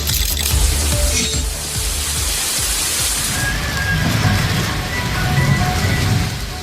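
Heavy rain pours down in a Tamil Nadu town such as Dharmapuri or Pudukkottai, a loud, dense hiss of water hitting surfaces that holds steady throughout, with faint tonal sounds in the background and no speech.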